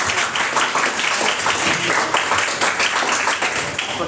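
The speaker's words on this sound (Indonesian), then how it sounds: "Tepuk tangan dulu buat kita semua." Applause from a group gathered at a student organisation's cadre training event, a sustained roomful of clapping, fairly loud and steady from start to finish.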